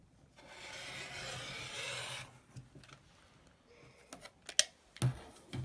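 Quilt fabric being cut while making a pinwheel quilt: a steady close rasping slice for about two seconds, followed by quieter scattered handling noises and a few sharp taps near the end.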